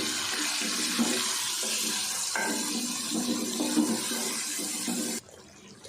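Water pours steadily into a pot of browned mutton and tomatoes for a karela gosht, a continuous close splashing rush that cuts off abruptly near the end.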